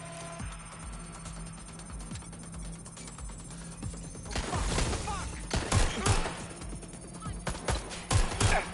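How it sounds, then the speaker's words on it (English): Gunfire in the video game Watch Dogs: Legion, with bursts of shots and heavy impacts cutting through a busy game soundscape, growing louder and denser in the second half. "Shots fired."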